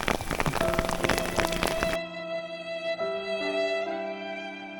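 Heavy rain pours down during a fishing trip at a dam reservoir, a dense, loud hiss for about two seconds before it cuts abruptly to steady tonal music.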